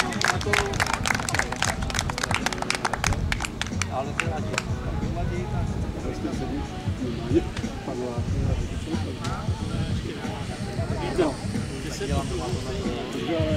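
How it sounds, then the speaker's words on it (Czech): An outdoor audience at a children's day show in Běchovice applauds a landing pilot and aircraft, sharp clapping at first thinning into crowd noise with an announcer talking over it. "poprosím potlesk"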